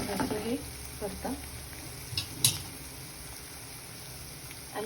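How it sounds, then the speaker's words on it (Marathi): Palak (spinach) bhaji stir-fried in a pan: a soft, steady sizzle broken by scraping stirs, with a voice briefly at the start. "असं छान परतत राहा."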